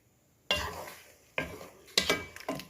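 Shrimp cooking in coconut milk in a pot for laing gives three separate bursts of stirring and clatter, each fading into a low simmering bubble, with a quiet lull first.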